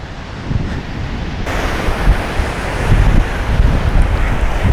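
Steady, loud wind blowing across the microphone, with the wash of surf underneath, continuous for the whole stretch.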